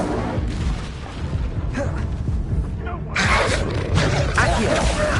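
A burst of fire magic from the Incendio spell erupts in the Hogwarts Legacy video game, a loud, dense whooshing blast that swells midway through and stays forceful to the end over a continuous rumbling game soundscape.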